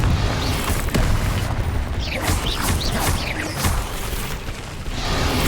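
A Confringo fire spell exploding in the Hogwarts Legacy video game, a dense, loud burst of booming blasts and crackling debris stacked over continuous rumbling combat noise.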